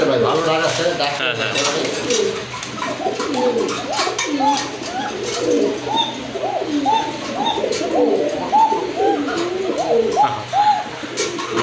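A breeding pair of pigeons coos repeatedly in soft, rolling bursts close by at a pigeon market, with several birds overlapping and faint clinks and murmurs in the background.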